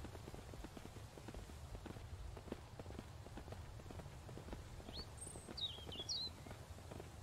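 Irregular low thudding footsteps from several creatures in the survival game Mist Survival, patter-like and moderately faint, with a few brief high chirps above them near the end.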